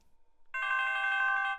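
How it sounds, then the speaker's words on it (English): A telephone in the Home Safety Hotline: Seasonal Worker video game rings with a jingle-bells tone, a bright, steady electronic ring that starts abruptly after a short quiet moment and runs loud and alone for about a second. "Oh, jingle bells."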